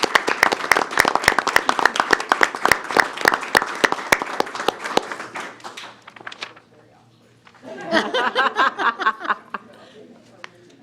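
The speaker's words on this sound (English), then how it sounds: "Let's give them a round of applause" Audience applause at a school board of trustees meeting, honoring students and their parents: a loud burst of many clapping hands for about five seconds that fades, then a second, shorter round of clapping after a brief lull.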